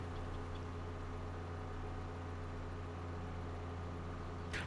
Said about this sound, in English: Is tractor noise too loud?